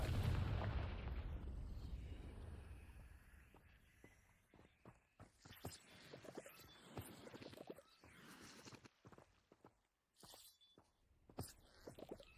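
A loud, deep magical explosion from the Confringo spell in Hogwarts Legacy booms right at the start and rumbles as it fades. Fainter footsteps and small pops follow.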